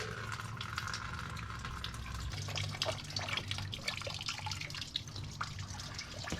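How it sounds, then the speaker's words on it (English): Coolant drains from a car radiator in a steady, continuous trickle and splatter of liquid. It is fairly faint and close, with no voices. "We'll start by draining the radiator."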